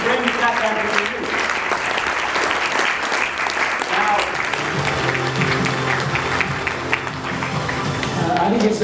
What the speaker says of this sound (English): let's give a big round of applause to Venture International to make it happen after 10 years